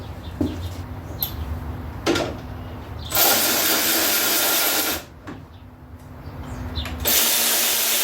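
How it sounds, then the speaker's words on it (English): A power drill driving screws to bolt down a part on a Cub Cadet 1042 riding lawn mower, with several short bursts and one longer steady whir of the drill close by, separated by pauses. "We're going to start with running our screws and bolt this guy down."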